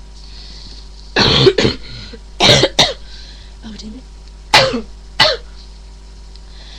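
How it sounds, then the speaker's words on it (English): Several harsh coughs and throat clearings from a person with a cold come in bursts, close and loud, with a short muttered remark between them. "I've got a bit of a cold cough thing going on"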